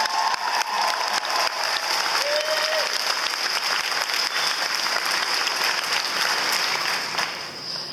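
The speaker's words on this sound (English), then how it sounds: "Big round of applause for him." Audience applause from a crowd at a television series event, a dense sustained burst of clapping that holds steady throughout and begins to thin only at the very end.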